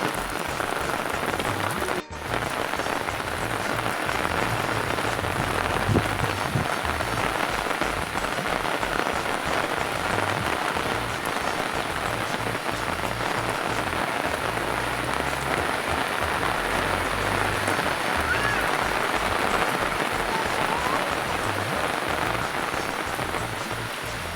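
Heavy rain pours down steadily in a village, a dense, loud and continuous hiss of drops drumming on surfaces that runs without a break, with no voices.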